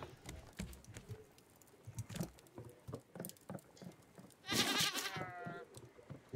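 Goats bleat in the survival video game Raft, with a quavering bleat standing out midway over busy patter and clicking game sounds, and no talking.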